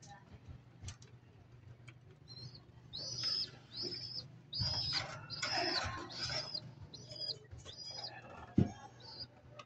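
Birds, likely pigeons, fly and call at midday, a series of short repeated calls rising over low background rumble, with people talking faintly nearby.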